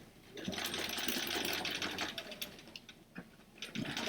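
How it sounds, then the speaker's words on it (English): A sewing machine stitches a bag edge about an eighth of an inch in, running in a steady, close whir with a few brief pauses and restarts. "I'm going to, again, sew about 1/8 of an inch from the edge"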